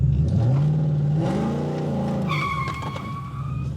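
Modified Cobra car pulling away from a stop on a wet road, its engine note rising steadily and loud close by, with a high tire squeal joining in the second half.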